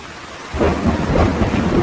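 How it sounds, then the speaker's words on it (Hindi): Heavy rain pouring down with rumbling thunder, quiet at first and then rising suddenly into a loud, dense roar of rain and deep rolling thunder. "बारिश बहुत तेज थी।"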